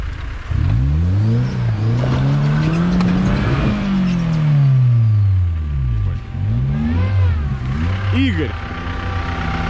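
Diesel Lada Niva off-road car revving hard in low-range gear, engine pitch sweeping up and down repeatedly and loudly close by, with voices talking over it.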